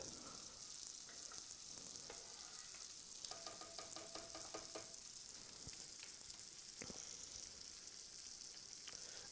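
Cream sauce for chicken alfredo heating and reducing in a pan over high heat, giving a steady soft sizzle and bubbling hiss throughout, with a few faint clinks and stirring sounds.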